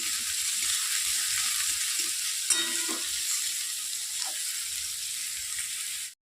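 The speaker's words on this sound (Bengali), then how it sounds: "এটাকে একটুখানি হালকা ভাজতে দিয়েছিলাম" Sliced onions fry in a pan over low gas with a continuous bright sizzle, broken by a couple of brief scraping stirs near the middle.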